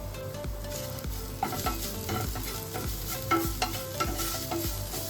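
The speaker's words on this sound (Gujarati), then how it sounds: "ખાલી એક સેકન્ડ માટે આપણે સાતરી લઈશું" Oil sizzles steadily in a pan with salt and garam masala while a spoon stirs and scrapes, with occasional soft clinks against the metal.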